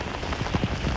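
Heavy monsoon rain pours down steadily and close by, a dense continuous patter with no voices over it.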